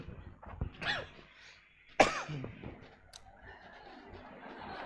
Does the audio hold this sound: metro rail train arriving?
no